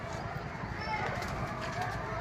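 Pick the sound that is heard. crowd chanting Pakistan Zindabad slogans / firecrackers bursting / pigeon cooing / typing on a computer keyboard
pigeon cooing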